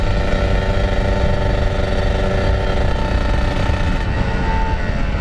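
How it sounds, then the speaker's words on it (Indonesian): A 2010 Kawasaki Ninja RR150 two-stroke engine, freshly replaced, runs loudly and steadily nearby, a rough, rattling idle that continues without a break. "nyobain mesin pertama kali baru diganti"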